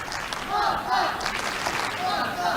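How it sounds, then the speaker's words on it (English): A tennis crowd chants "Magda" for Magda Linette during her 2023 Australian Open match against Aryna Sabalenka. The rhythmic, moderately loud chant swells in repeated waves across a large arena. "Oh yeah, there's the Magda chants."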